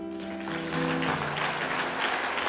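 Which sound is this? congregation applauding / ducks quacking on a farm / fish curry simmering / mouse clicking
congregation applauding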